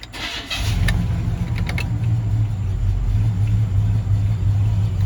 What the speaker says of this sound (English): computer, you can start my truck now